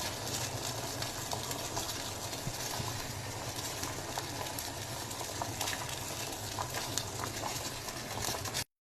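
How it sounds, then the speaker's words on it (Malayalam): Rice dumplings for Kerala-style pal kozhukatta drop into thin second coconut milk at a full boil in a pot. A dense, continuous bubbling and pattering sounds close up, with no talk. "അപ്പോൾ 2ാം പാല് നല്ലോണം തിളച്ചിട്ടുണ്ട്. നമുക്ക് അതിലേക്ക് ഓരോരോ ബോൾസ് ഇട്ട് കൊടുക്കാം."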